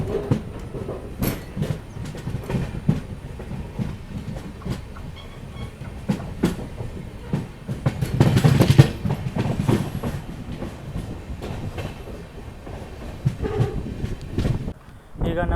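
Smvt Bangalore to Murudeshwar Express running on rails, a steady rumbling roll with irregular clacks and wind buffeting nearby, swelling louder midway before easing off.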